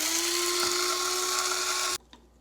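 Half a cup of oatmeal whirring in a high-speed blender or grinder as it is ground into oat flour, a steady, loud, high-pitched motor drone for about two seconds before cutting off abruptly into near silence.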